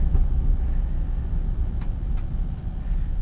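A 2001 Chevrolet Silverado pickup with a junkyard replacement transmission pulling away under acceleration, a deep steady engine rumble heard from inside the cab with a few faint light ticks.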